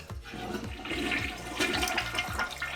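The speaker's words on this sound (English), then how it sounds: "Yep, flush." A household toilet flushes up close, a loud continuous rush of draining water with gurgling that runs steadily throughout, with no voices.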